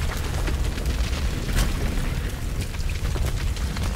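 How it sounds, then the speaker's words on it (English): A loud, sustained rumbling explosion in Tomb Raider, a dense roaring blast with crackling bursts that fills the whole moment at close range. "That's probably gonna explode."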